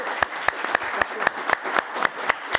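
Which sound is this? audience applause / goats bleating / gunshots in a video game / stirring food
audience applause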